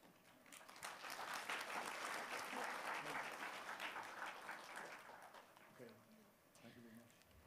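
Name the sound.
audience applause for Professor David Jewitt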